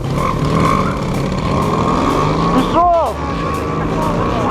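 Lipan four-valve and Dnipro motorcycles roar at a race start, with engines droning and a sharp rising rev sweep near the end, while voices talk over the noise.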